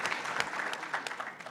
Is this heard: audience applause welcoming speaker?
yes